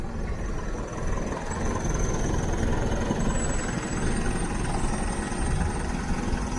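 An Arriva bus engine rumbles and rattles from the back end in a steady, low, continuous drone at a bus station, moderately loud and unbroken.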